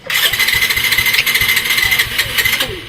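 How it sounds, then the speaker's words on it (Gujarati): A Bajaj Pulsar motorcycle engine catches and runs with a loud, close, rattly putter for a few seconds before it cuts out, with no one speaking. "હમણાં મેં કીધું કે શું મસ્ત સવાર થઈ છે ને ત્યાં સુધીમાં બાઇક બંધ થઈ ગઈ"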